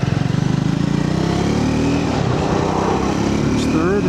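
A 2026 Triumph 400 XC motorcycle engine drones steadily while riding, a loud close buzzing hum with wind rush throughout and a slight rise in pitch near the end.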